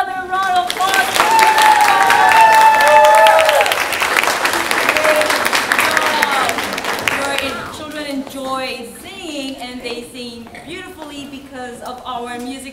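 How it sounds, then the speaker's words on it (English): An audience at a fourth-grade spring program applauds loudly and steadily for several seconds after a school performance, then the clapping thins out as a person begins speaking over it. "How about another round of applause?"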